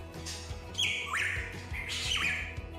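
A hooded pitohui, the toxic songbird, gives two harsh, squawking calls with sharp pitch-sliding notes, loud and close over a low background rumble.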